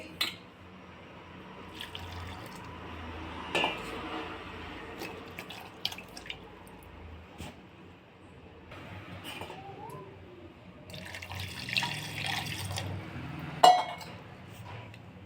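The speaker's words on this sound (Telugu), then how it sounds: "చింతపండు ఇలా తీసుకొని వాష్ చేసి నానబెట్టాలండి" Tamarind being washed in water, with soft drips, splashes and light clinks of a vessel coming and going, close up, no talking.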